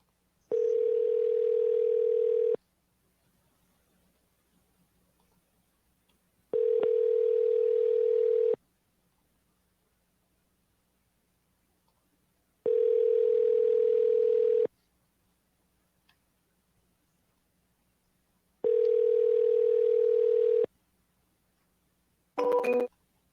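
Telephone dial tone heard in four long steady bursts of about two seconds each, separated by silent gaps, with a short harsher burst at the very end; no talking, clear and close.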